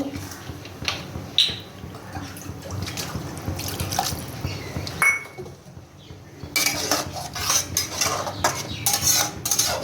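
Spice-bowl rinse water splashes into a simmering fish-roe curry pan for stuffed pointed gourd, with clinks of utensils against metal and bursts of sizzling and dripping close by, no one speaking.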